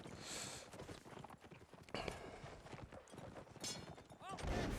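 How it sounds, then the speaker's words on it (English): Horse hooves clip-clopping during a Mount & Blade Napoleonic Wars cavalry charge against defending infantry, a dense busy rattle of many hoofbeats mixed with battle noise and talking throughout. "they're trying to defend themselves from these onslaught of clippity-clops"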